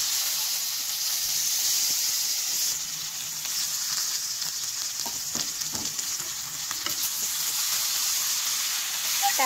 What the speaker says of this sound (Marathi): फोडणीला जास्त काही नाही, तेल, मोहरी, जिरं फक्त टाकणार आहे आणि त्याच्यामध्ये जी वांगी भरलेली आपण ती त्याच्यामध्ये ठेवून द्यायची